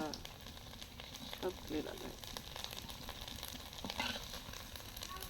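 Red amaranth leaf fritters fry in hot oil until they turn dark, a steady, quiet sizzle and crackle that carries on under nearby conversation.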